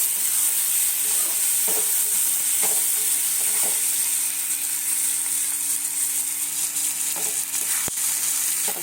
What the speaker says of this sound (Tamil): தக்காளி வெங்காயம் நல்லா வதங்கட்டும்.